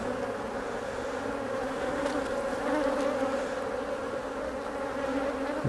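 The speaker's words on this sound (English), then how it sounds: "we'll just shake these bees off so we can get this frame back in without crushing any bees" Dense honeybee buzzing rises steadily as bees are shaken off a hive frame, a close, continuous hum with no talk over it.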